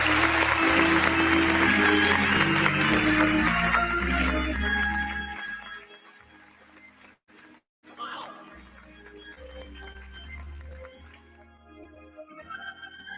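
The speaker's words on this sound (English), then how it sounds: "give yourselves a round of applause" Open mic night audience applauding, dense loud clapping for several seconds that fades into a lower, scattered crowd murmur with a few lingering claps.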